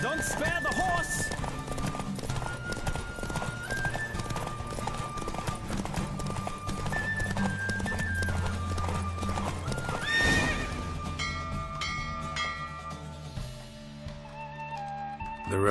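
Horse hooves clip-clopping at a fast gallop during a horse race in The Witcher 3, with neighs and whinnies over a steady bed of game music, loud and continuous throughout.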